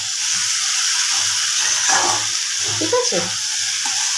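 Spice paste with dried red chili fries in a pan for a prawn dish, giving a loud steady hiss and sizzle, close up, with brief quiet talking and some stirring.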